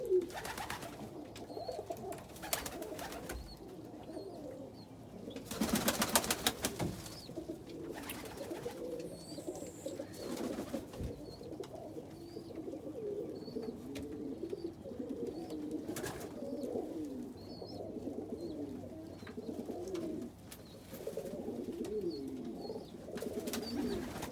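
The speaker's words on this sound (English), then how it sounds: "It's always beautiful to watch the birds sitting like the hen and cock right next to each other." Pigeons, including rollers, coo steadily in a loft in low, rolling calls, with several birds overlapping nearby and occasional louder flutters and bumps.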